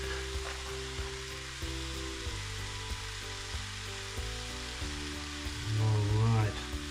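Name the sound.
egg fried rice frying in a pan, stirred with a spatula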